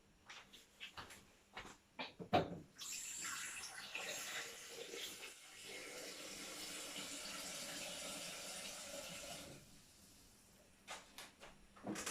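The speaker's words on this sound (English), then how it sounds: "I've just popped some water into there and a little bit of washing up liquid" Tap water runs steadily into a Thermomix bowl at a kitchen sink, a sustained splashing gush after some light clatter, then stops, with handling noises around it.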